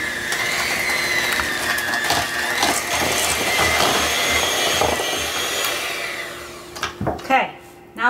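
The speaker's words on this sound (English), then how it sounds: "Let's go mix medium speed." An electric mixer whirs at medium speed through a bowl of sugar and vanilla for a cheesecake filling, a steady close drone that stops near the end, followed by a few clattering handling sounds.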